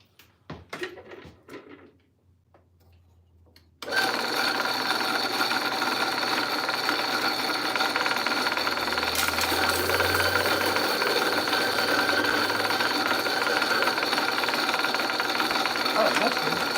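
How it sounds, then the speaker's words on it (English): A Compact R80 grinder milling decaf coffee beans starts abruptly after a few seconds of quiet handling noise, then runs as a steady, loud, high-pitched whirring grind to the end. "so what we're gonna grind this up. I got the grinder right here. This is our Compact R80."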